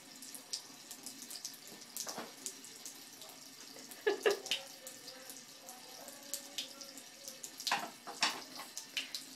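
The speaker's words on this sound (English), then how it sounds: "Time to shut the water off and go to bed." Water runs steadily from a bathroom tap at bedtime, a soft continuous rush with occasional splashes and clatters from teeth brushing, fairly faint and close.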